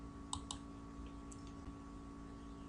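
Two quick mouse clicks close together near the start, with a third fainter click a second later, over a steady computer hum while confirming an OK button in a Windows application.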